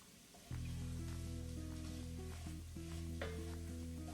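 A roux for gravy cooking in a pan, a steady close sizzle and frying hiss with light stirring scrapes and a constant hum underneath, with no voices.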